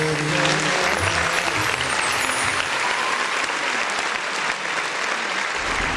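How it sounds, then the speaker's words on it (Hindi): Sustained, loud audience applause after a dance-drama about Sant Janabai, dense clapping filling the whole stretch with no pauses and no voices over it. "इतनी तालियां तो बहुत ही कम है, आपने क्यों कंजूसी करते हैं?"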